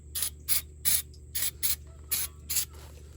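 Carburetor choke and parts cleaner sprays from an aerosol can in seven short, even hissing bursts, close and clear over a steady low hum from a garage working on a 1971 Chevy C10.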